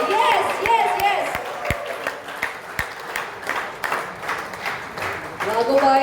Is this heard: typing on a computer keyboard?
no